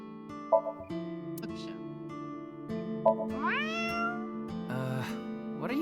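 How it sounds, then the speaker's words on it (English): A character in the Ai: The Somnium Files - NirvanA Initiative video game meows at a lucky cat statue, several sliding meow calls over a steady, soft game music bed with small chime-like accents. "If you meow at a lucky cat statue, happiness will come your way."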